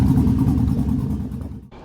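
A 2002 Ford F-150 Lightning clone with an LS swap, aftermarket cam and Borla exhaust gives a loud, choppy, lumpy idle rumble close by, then cuts off abruptly near the end.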